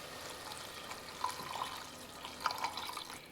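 Water pours into a pot of potato curry made with raw cubed potatoes and banana peels. It makes a steady, soft trickling splash at close range with no talk.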